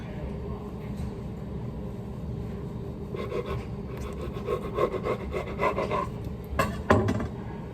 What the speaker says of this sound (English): I'm gonna cut them like that.